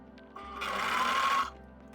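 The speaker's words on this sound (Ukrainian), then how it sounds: "Опускаю голку спочатку, опускаю лапку, роблю закріпку і продовжую шити." A sewing machine stitches a fabric-scrap headband in one short run of about a second, a close steady whirring hum that starts after a faint click and stops abruptly.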